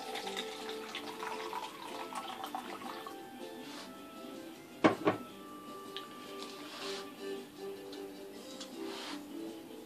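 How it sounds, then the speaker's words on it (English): Sparkling wine poured into a cup, a quiet running, fizzing stream with a sharp clink midway, heard close and alone without talk. "I'm gonna actually just pour myself some nice wine sparkler here into my cup here."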